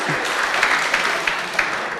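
A brief burst of steady audience applause at a 2022 Sci-Tech Innovation Challenge closing ceremony, dense and even with no voices on top.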